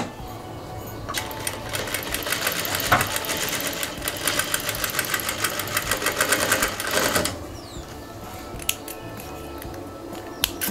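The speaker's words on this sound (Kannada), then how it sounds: "ಎಡ್ಜಲ್ಲಿ ಒಂದು ಸೀಮ್ ಹಾಕಿ," A sewing machine runs a seam along a fabric edge in one steady, fairly loud burst of rapid stitching that stops partway through, followed by a quieter stretch with a few clicks and handling noises.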